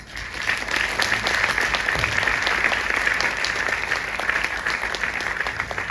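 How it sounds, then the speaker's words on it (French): Steady, even applause from an audience welcoming an invited speaker at a lecture event, a continuous wash of many hands clapping at moderate distance with no voices over it. "Je vous demande de l'applaudir."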